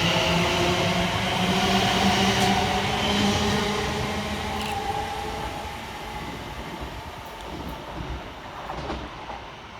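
A Class 221 diesel cross-country train runs through Barnt Green station, its engine rumble and rail noise loud at first, then gradually fading as it moves off, with no voices.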